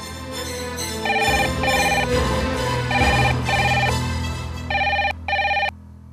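A telephone rings loudly in a Hindi TV drama scene, repeated electronic ring bursts in a steady pattern over a full, busy background score, the final two rings standing alone before the sound stops.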